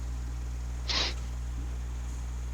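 A person imitates a kobold's sneeze: one short, breathy burst that stands out over a low steady hum, then quiet.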